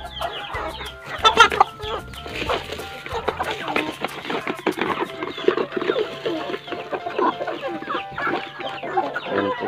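A flock of backyard free-range heritage chickens, Hubbard and Rhode Island Red, clucks and murmurs continuously nearby, with scattered louder calls and feeding noise throughout.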